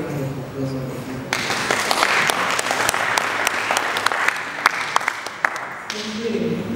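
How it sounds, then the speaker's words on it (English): A hall audience at a district strategic planning session breaks into sustained applause, dense clapping that swells in and holds steady for several seconds before tapering, with faint voices beneath. "you deserve a hearty round of applause on the floor"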